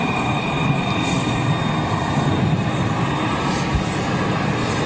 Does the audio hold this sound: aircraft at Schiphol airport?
yes